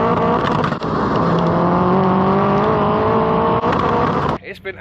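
A VW T4 Transporter engine tuned to 565 bhp revs hard on a dyno, a loud sustained rising roar that holds near and steady for several seconds before cutting off abruptly, with brief talk at the end.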